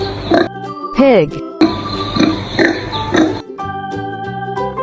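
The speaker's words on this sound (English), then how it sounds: "Pig." A farm pig grunts and oinks in short bursts, including one squealing rise, over a bouncy musical backing that stays audible throughout.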